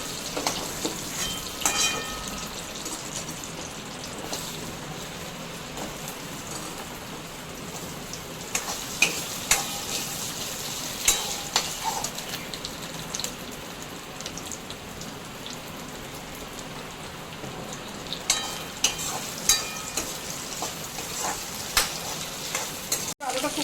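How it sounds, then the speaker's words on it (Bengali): Potatoes frying in oil, a continuous crackling sizzle with scattered sharp clicks and scrapes of a utensil turning them, steady and close throughout. "এই তেলে এবার আলুগুলো ভেজে নিচ্ছি"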